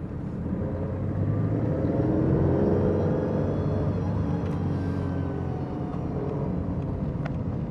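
A 1971 Citroën SM engine hums and rumbles steadily from inside the cabin as the car drives along a rough, bumpy road, with occasional knocks, no talking.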